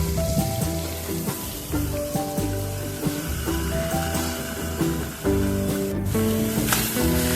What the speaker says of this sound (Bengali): মাছের মাথাটা ওই অল্প তেলেই আমি হালকা করে ভেজে নিচ্ছি।